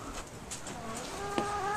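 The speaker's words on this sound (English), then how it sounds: "All right, I'm in the chicken coop now." Chickens in a coop give soft, scattered clucks at close range, with a rooster among the flock; faint and brief, with no talk.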